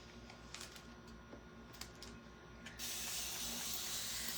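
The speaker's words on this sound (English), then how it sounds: "spray with water" Spray bottle misting water onto a surface during cleaning: light clicks and short faint spritzes, then a steady close hiss of continuous spraying to the end.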